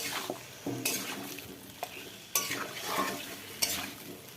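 Marinated chicken coated in salt, turmeric, mustard oil and onion, ginger and garlic paste tipped into a hot pan, with sizzling frying, a few sharp clatters of the pan and utensil, and stirring scrapes, quiet and close.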